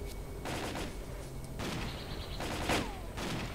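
Rapid in-game gunfire from the shooter S.T.A.L.K.E.R. Clear Sky, with dense bursts and volleys of shots crackling through the whole stretch, loud and close, with a sharper burst near the end.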